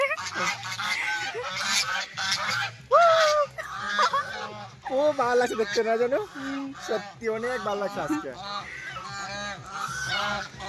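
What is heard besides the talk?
geese honking loudly at visitors in a park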